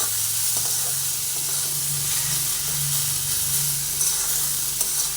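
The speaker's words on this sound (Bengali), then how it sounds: "ভালোভাবে নাড়াচাড়া করে এটাকে ভেজে নিচ্ছি" Mashed pumpkin mixture with chilli and salt sizzling steadily in a pan over a lowered flame while being stirred, a constant close frying hiss with soft scraping strokes throughout.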